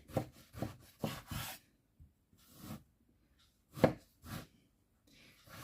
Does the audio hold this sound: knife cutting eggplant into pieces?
yes